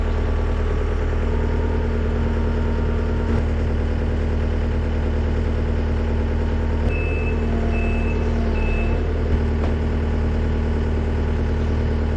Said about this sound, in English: I'm probably going to have to use the skid loader and a strap